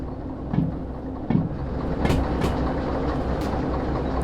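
A freight train in the simulator Derail Valley rolls on as its air brakes ease off, giving a steady rumbling drone with a few sharp clanks and knocks from the cars near the start.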